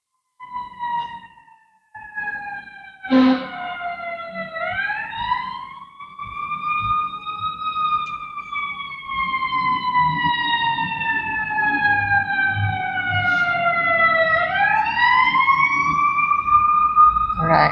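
A wailing emergency vehicle siren passes nearby, its pitch rising and falling in long sweeps that grow louder toward the end over steady background rumble.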